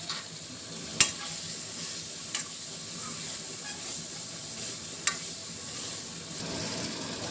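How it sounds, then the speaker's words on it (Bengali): Pointed gourd and potato are stir-fried with spices in a pan for a prawn curry, a soft continuous hiss and sizzle punctuated by a few sharp clinks of a spatula against the pan. "এই পটল আলুটা দিয়ে এবার ভালো করে মশলাটা দিয়ে কষবো"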